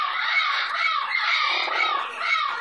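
A pet bird perched on a person's arm makes a continuous, close, loud purring trill that rises and falls in pitch, with no talk.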